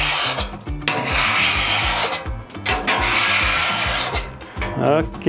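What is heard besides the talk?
scraping a plancha griddle with water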